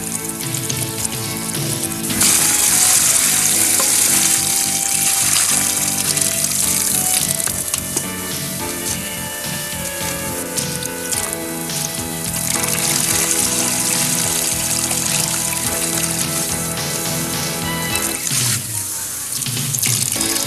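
Running water rinses hydroponic growing substrate until it runs clear, a loud, continuous splashing gush like a tap filling a sink, steady for about twenty seconds with slight surges and no voices.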